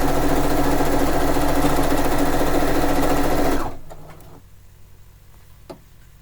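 A sewing machine stitches a small fishing-themed quilt, running loud and steady for several seconds before stopping abruptly, leaving a quiet room with a few faint clicks and knocks.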